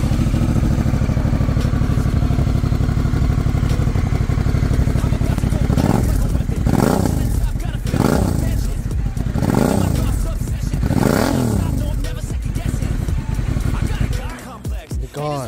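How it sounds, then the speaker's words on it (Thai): Honda NT1100 DCT motorcycle fitted with an aftermarket PSP exhaust, idling steadily then blipped in four or five sharp, rhythmic revs that rise and fall close by, settling back to idle at the end. "เดี๋ยวจะลองมาฟังเสียงท่อกันนะครับว่าก ับท่อ CBR 3R แล้วเนี่ยเสียงท่อมันหลอกขึ้นแค่ไหนมาฟังกันนะครับ"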